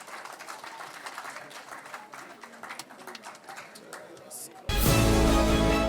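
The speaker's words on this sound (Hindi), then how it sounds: "जोरदार तालियां" Applause from an event audience at the Ekal Bharat Manch 3.0 stage show, a dense patter of many hands clapping steadily, then a sudden loud burst of music cuts in near the end.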